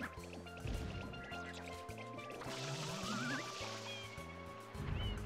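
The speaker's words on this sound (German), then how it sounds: "Ich muss hier nur das richtige Pflänzchen gießen" A plant watered with a water spray in Super Mario Sunshine: a steady gurgling, liquid spraying hiss under busy game music, with rising whistle-like effects and chiming tones.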